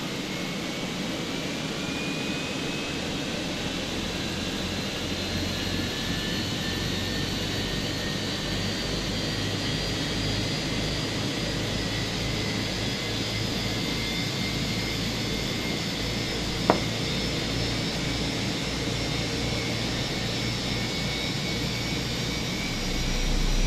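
A jet engine spools up on start as bleed air drives the starter motor, with a steady rising whine over a broad roar, building slowly and continuously throughout, with one brief sharp click partway.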